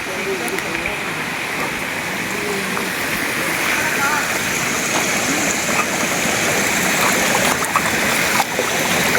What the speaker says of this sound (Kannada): ಇಲ್ಲಿ ಯಾವುದೋ ಕೊಳದ ಥರ ನೀರು ಹರಿತಾ ಅದು